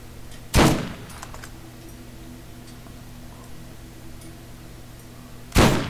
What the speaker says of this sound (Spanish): Voy a reventarla a balazos.